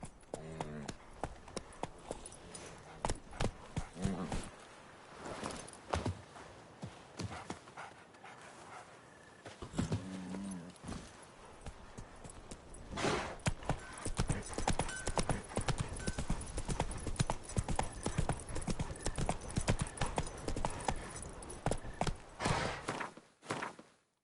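Horse hooves from The Witcher 3 video game, rapid rhythmic clip-clop of galloping close up and loud, pausing briefly then picking up again, with short snorts and breathy vocal sounds between the strides.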